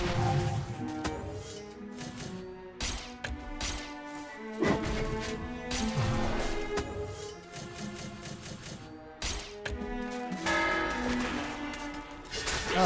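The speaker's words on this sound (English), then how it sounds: "Oh, there's an aforementioned bell." A bell in the game MediEvil rings out with repeated resonant metallic strikes and long humming overtones, fairly loud amid game music and thuds.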